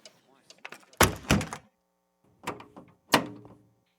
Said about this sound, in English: He retired to his study and bolted the door securely from the inside.